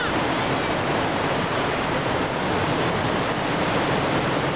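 Sea waves at Enoshima beach in Kanagawa make a steady, loud, broadband roar of surf that holds constant throughout, with no distinct voices.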